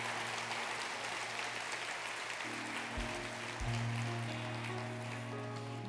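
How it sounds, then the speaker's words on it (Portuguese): A church congregation bursts into steady applause, a dense, even patter of many hands that carries on throughout at low level, with instrumental tones entering partway through. "Podemos aplaudir Jesus, irmãos?"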